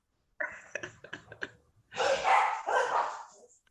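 A pet dog at home lets out a quick run of sharp, clipped barks, then a couple of longer, louder breathy barks or huffs close to the microphone indoors.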